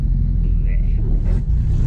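A Chevette with ABS brakes brakes hard from speed, giving a steady low rumble of road and tyre noise inside the car while someone talks over it.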